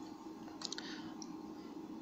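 A few quick, faint computer mouse clicks in a quiet room, a tight cluster of light taps followed by one more single click.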